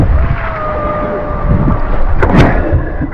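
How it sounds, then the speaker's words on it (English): Twin Honda engines drive an island-hopping boat off Siargao Island in the Philippines, a steady low drone with a faint whine over it and a brief rushing swell near the end. "this particular boat has two engines in it"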